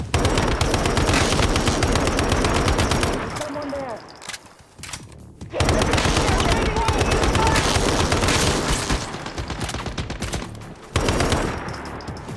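Rapid automatic gunfire in the survival shooter Once Human, long loud bursts with brief pauses between volleys, some voice faintly under the shooting.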